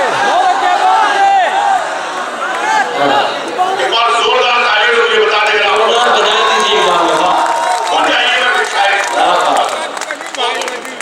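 Loud crowd at an outdoor All India Mushaira poetry recital at a college: sustained applause, cheering and chatter from a large audience, with voices throughout.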